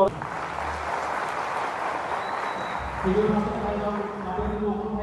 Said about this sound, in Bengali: আজকের অনুষ্ঠান থেকে অভিনন্দন জানাচ্ছি একটি করতালির মাধ্যমে